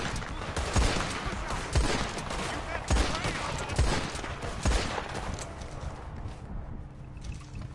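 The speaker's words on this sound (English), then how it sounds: "I just want to test these pistols now that I just upgraded them" Upgraded pistols fire in the Western game Red Dead Online. Sharp shots come one after another at uneven gaps, with some clustering, over a busy background.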